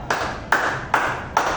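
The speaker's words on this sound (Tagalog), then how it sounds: "Bigyan naman ito ng 4 na palakpak." Four evenly spaced group claps ring out in a classroom, each a sharp burst with a short decay, no voices between them.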